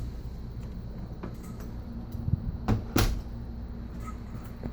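Pantry drawers in a 2016 Forest River Cardinal 3825FL RV slide open and shut, giving a few soft thuds and sharp clacks over a low steady background hum.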